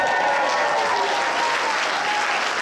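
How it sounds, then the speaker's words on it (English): Dense, sustained applause from a crowd at a Christmas party, loud and even throughout, with no talking. "Did you hear that applause?"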